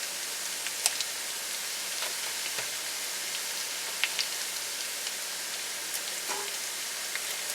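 Butter and fresh sage sizzling in a pan: a soft, steady hiss with scattered faint pops and crackles, alone with no talking.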